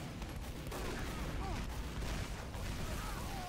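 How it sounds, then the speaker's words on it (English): Team Fortress 2 rocket jump explosions mixed into chaotic gunfire and blasts, close and busy, with a voice faintly talking under the combat noise. "I almost died to that rocket jump"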